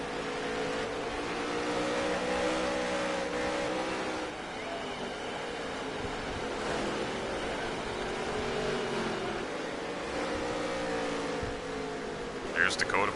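Dirt track race cars roar around a Las Vegas oval during a NOSSCAR Dirt Touring Series heat race, a continuous loud engine drone rising and falling as they battle, with an announcer talking over it.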